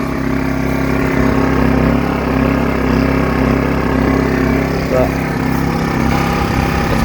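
A petrol pure sine wave generator runs with a steady, close engine drone and a constant low hum throughout, while a person talks over it.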